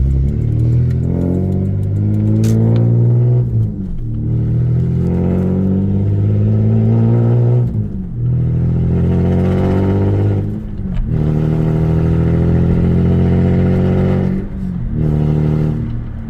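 A straight-piped V6 car with a 5-speed revs loudly up close in several long, droning pulls, each rising in pitch, then dropping off briefly before the next.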